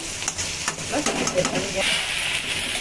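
Onions and green chillies cooking in a pan that is being covered with a lid: close stirring scrapes and knocks over a sizzle, settling into a steadier hiss.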